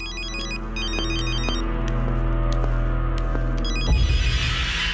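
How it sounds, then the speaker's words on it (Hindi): A telephone rings in repeated electronic trilling bursts over a low steady hum, then a sudden rustling thump near the end. "रिंग बजी तो थी"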